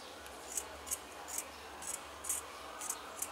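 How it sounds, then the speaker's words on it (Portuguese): Scissors snipping through fabric for a Minion-themed sleep mask, about eight crisp evenly spaced cuts, close and soft against a quiet hiss. "mas depois a gente vai cortar por dentro"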